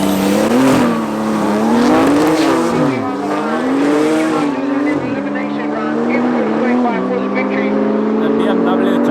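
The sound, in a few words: BMW and Porsche race cars launching at drag race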